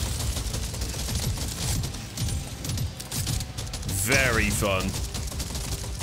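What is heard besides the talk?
gunfire in the video game Deep Rock Galactic: Survivor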